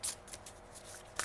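Tarot cards are shuffled by hand in soft, quiet bursts of riffling and slapping, repeating irregularly with a crisper flick at the end.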